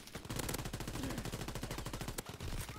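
Rapid automatic gunfire from a World War II shooter video game, Call of Duty WW2, rattles in a dense, fast string of shots, loud and close, briefly pausing near the end before firing resumes.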